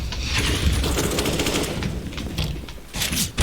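Rapid bursts of gunfire from a shooting video game in a weapons challenge, a dense stream of shots running nearly continuously with a few louder cracks near the end.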